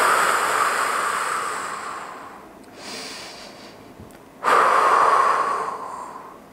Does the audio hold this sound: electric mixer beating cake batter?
no